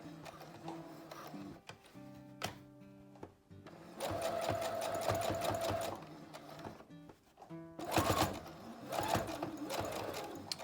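A sewing machine runs a straight seam on a cloth face mask, a steady mechanical stitching rhythm that starts, pauses and speeds up again in several bursts, close and fairly loud with no talking.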